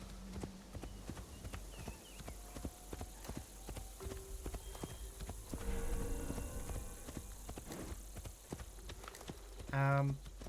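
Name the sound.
horse hooves clip-clopping in Assassin's Creed Shadows video game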